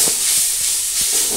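Onion and shushni greens fry together in a pan, giving a steady broadband hiss and sizzle with a few soft stirring knocks, close and continuous with no talking.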